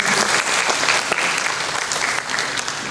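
Loud, sustained applause from a church audience at a praise and worship training session, a thick, continuous wall of clapping from a close crowd that eases off slightly near the end.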